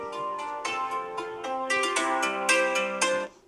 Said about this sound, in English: Those are my alarms to get my crap together and start getting ready.